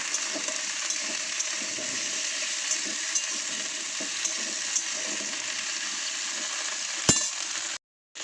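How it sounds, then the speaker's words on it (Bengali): Okra pieces fry with onions in a pan, giving a steady, even sizzle that holds throughout, broken by a sharp clack near the end before a brief cutout. "ঢ্যাঁড়সটা দিয়ে দেবো পেঁয়াজের সঙ্গে, দিয়ে একটু ভালো করে ভেজে নেব"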